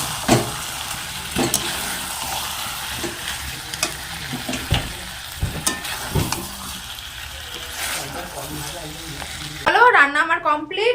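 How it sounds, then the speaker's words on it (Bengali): Onions and red lentils frying in a pan in a home kitchen: a steady sizzle with scattered stirring clinks and scrapes, close and fairly loud, ending in a short burst of louder bubbling. "এখানে পেঁয়াজ ভেজে মুসুর ডাল হালকা ভেজে জল দিয়ে সিদ্ধ বসিয়ে দেবো"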